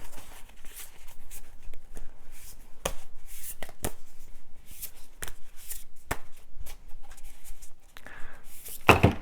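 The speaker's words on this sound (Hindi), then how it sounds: "बाकी के कार्ड्स भी मैं पुल कर लेती हूँ।" Tarot cards shuffled and pulled from the deck during a card reading, a close, steady run of crisp papery riffles and slaps with sharper flicks now and then, no voices.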